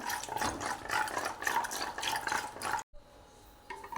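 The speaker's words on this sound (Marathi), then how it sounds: "मी थंड पाणी घालणार आहे" Cold water poured into buttermilk for a chilled spiced drink, a continuous close splashing pour that stops abruptly near the end, followed by faint quiet and a soft liquid sound, with no speech.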